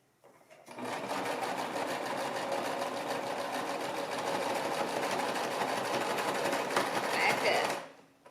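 A sewing machine stitches a baby romper in a steady, continuous mechanical whir for several seconds, close and fairly quiet, then stops.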